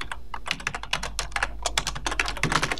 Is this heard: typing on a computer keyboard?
yes